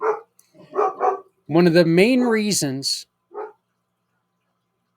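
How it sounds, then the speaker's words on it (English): A dog barks indoors at home in a few short bursts, then someone talks at length, with one more brief sound after him. "the damn dog started barking at her"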